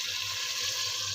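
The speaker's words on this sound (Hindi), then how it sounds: "अब इसमें पानी डाल के" Water pours into spiced masala frying in a pan while making moong dal mangochiyan, a broad steady hiss and sizzle filling the short moment close up, with no talking.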